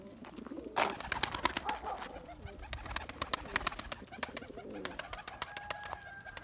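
Young pigeons cooing softly in a loft, low repeated coos mixed with sharp clicks, wing flaps and rustling nearby.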